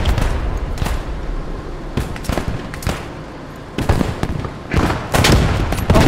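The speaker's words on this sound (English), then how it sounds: "Oh, the explosion." Gunfire and explosions fill a World War II shooter game, with loud, close bursts of rapid shots and booming blasts in clusters through the whole stretch, no talking over them.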